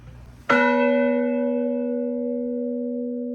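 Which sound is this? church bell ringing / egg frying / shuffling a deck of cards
church bell ringing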